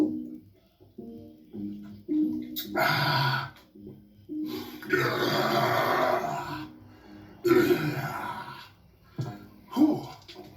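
A man burps loudly several times after chugging drinks from two cans at once, a few long rough belches close up, separated by short pauses, with no speech.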